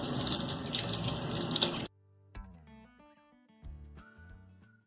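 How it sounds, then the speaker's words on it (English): Water gushes loudly from a sink tap during a fingers-to-elbows hand rinse, a dense steady rush lasting about two seconds before stopping abruptly, followed by quiet tonal music. "After the basic hand wash is complete, we'll do a rinse from fingers to elbows."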